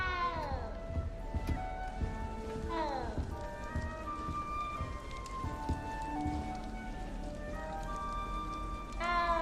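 A cat meows repeatedly in Hogwarts Legacy, with several rising and falling meows spread across the stretch over a soft, rain-like background ambience.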